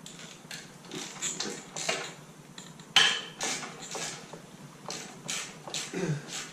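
Allen nuts and a clamp being undone on catalytic converters during an exhaust install: light metallic clinks and ratcheting tool clicks in short bursts, close to the microphone, with a sharper knock partway through.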